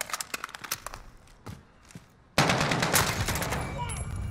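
AS VAL assault rifle firing in Modern Warfare, with scattered shots early, then a sudden sustained burst of loud, rapid automatic fire that holds steady to the end.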